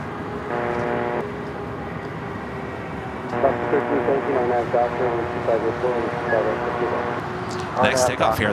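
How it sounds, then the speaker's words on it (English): An American Airlines Boeing 737-800 jet taking off on the south side at LAX, a steady jet engine roar that swells louder and rougher midway, with a tonal whine layered over it and a brief sharper burst near the end. "Next takeoff here on the south side is American Airlines Flight 2608 heading to Chicago O'Hare, 737-800."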